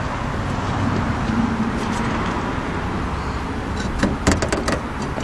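A car hood slams shut, a few sharp close thuds and rattles near the end over steady outdoor background noise, with no talking.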